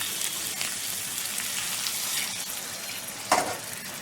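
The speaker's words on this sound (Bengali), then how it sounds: "এই অবস্থায় আমি একটু গরম জল দেবো" Hot water added a little at a time to mutton for kosha: a dense, close, steady sizzle and crackle, with one brief louder burst of spitting near the end.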